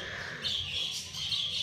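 Diamond doves and budgerigars in an aviary, with close bright chirps and twittering calls running continuously over a short stretch.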